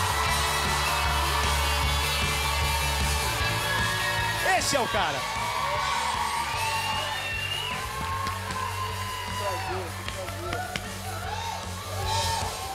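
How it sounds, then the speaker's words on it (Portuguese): A studio audience welcomes a basketball legend onto a television game show with loud cheering, whoops and yells over continuous clapping, while voices speak in between. "Uma salva de palmas."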